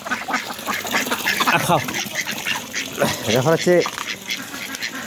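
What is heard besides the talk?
domestic ducks quacking at feeding time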